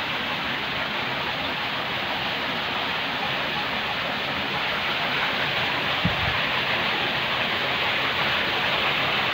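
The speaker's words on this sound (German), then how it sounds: "Wasserräder drehen." Water rushes steadily past turning water wheels at a small hydropower setup, a loud, continuous broadband flow with a faint knock partway through.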